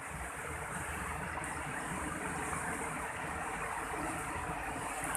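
Fast-flowing river water of the Kali Alas in Aceh, a steady broadband rush with no pauses, loud and close throughout.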